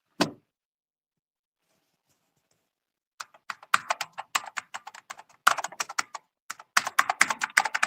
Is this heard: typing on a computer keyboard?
yes